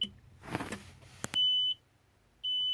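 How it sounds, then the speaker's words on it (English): On an Allison MD3060 transmission, the neutral safety switch sounds a warning: a short, faint tap, then two long, steady electronic beeps separated by a brief pause, clear against a quiet background. "that beeping you hear is the neutral safety switch not engaged"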